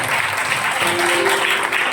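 Church congregation clapping hard together, a dense, even burst of applause filling the room for a couple of seconds.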